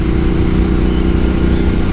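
A 2025 Ducati Panigale V2 is ridden on a public road, its engine droning loud and steady at constant revs, with the rush of wind close around it and no voices.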